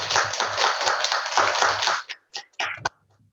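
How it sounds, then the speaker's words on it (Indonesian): Applause from the audience at a junior high school student council candidate debate, a dense burst of clapping lasting about two seconds, then a few scattered claps that fade out. "Tepuk tangan untuk kita semua."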